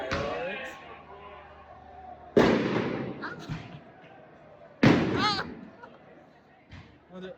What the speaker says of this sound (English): We're doing fireworks.